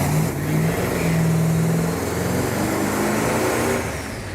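A 1969 Dodge Daytona's older engine revs steadily and close up, a loud, sustained mid-pitched drone that swells and holds for several seconds with no talking.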